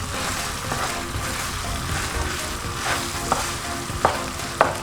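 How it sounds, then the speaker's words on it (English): Sweet corn gets stirred into a salmon pasta bake sauce in a pan, a continuous bubbling sizzle underneath, with spatula taps knocking against the pan toward the end. "And my tin of sweet corn also in there. So I'll just give it a mix around."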